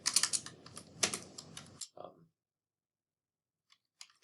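Computer keyboard typing while entering a place description in Google Earth: dense, rapid clicking bursts in the first two seconds, then a brief cluster of keystrokes before near silence with a couple of faint isolated taps.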